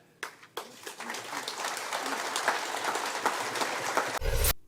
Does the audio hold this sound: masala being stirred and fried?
no